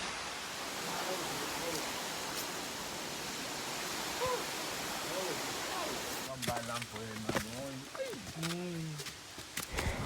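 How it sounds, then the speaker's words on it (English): Chenku Waterfalls at Dodowa near Accra, Ghana, pours as a steady, broad rush of falling water throughout, with voices and light rustling breaking in near the end. "we are out here at Chenku Waterfalls here at Dodowa in Accra"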